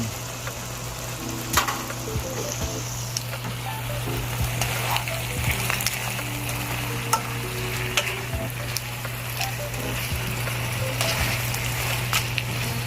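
Shrimp sizzles and fries in a pan for ginataang langka, a continuous close crackle with occasional stirring scrapes and a low steady hum underneath.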